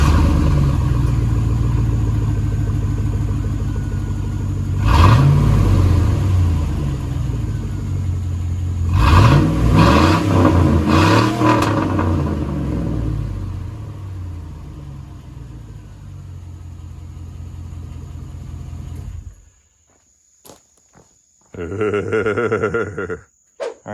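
A 2002 GMC Sierra pickup on its stock muffler idles with a deep rumble, then revs hard twice, settles back down, and cuts off into near silence before a brief burst of other noise at the end.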